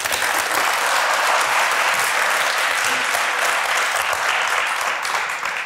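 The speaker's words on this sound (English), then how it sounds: "Give one big round of applause for them." A science slam audience applauds the jury with a loud, sustained, dense roar of clapping that holds steady for several seconds before easing slightly at the end.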